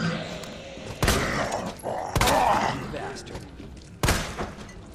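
Gunfire in Resident Evil 2 Remake: three sharp, loud shots spaced about a second or two apart, each a sudden broadband burst, heard under ongoing talk and game ambience.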